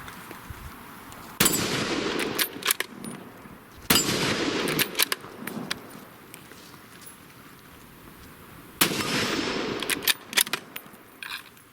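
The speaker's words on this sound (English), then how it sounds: "Let's see if the scout rifle can operate under these conditions." Scout rifle shots fired from a standing position by a shooter wearing a plate carrier, three sharp loud reports spaced a few seconds apart, each followed by brief echoes and handling clatter.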